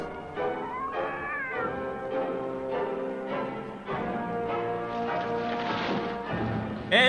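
A cartoon cat meowing and yowling in a long series of drawn-out, wavering cries, loud and close, rising and falling in pitch.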